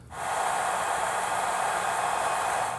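A hair dryer drying paint on EVA foam blows with a steady, loud broadband whoosh that starts abruptly and runs continuously without pause.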